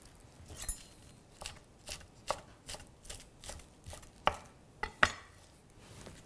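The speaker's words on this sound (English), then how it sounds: "I have some baby spinach, which I can just shred." Baby spinach leaves being shredded with a knife on a board for a salad, a run of crisp, uneven chopping taps close by, some sharper than others, with no talking.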